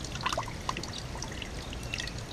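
Distilled water trickles and drips as it drains from the cooling system of a 2014 Yamaha R6 motorcycle, a faint close splashing with scattered drops.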